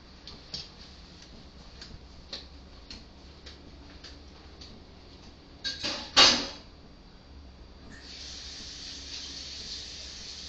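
Tap water runs steadily in the last couple of seconds while something is rinsed under it for an oven-baked Greek gyros, preceded by a few soft knocks and clatters in a quiet kitchen.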